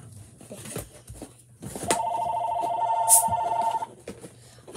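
A telephone rings with a steady electronic tone lasting about two seconds, mid-loud and close, set among quieter indoor handling sounds.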